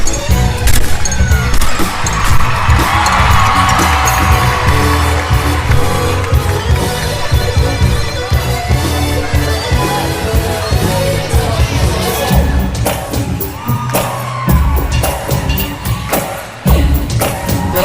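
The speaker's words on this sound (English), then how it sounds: "Crowd goes wild for that opening double layout" Spectators at a gymnastics floor routine roar and cheer loudly through a soundtrack, a dense sustained crowd wash over thumping music, with sharper bursts of applause near the end.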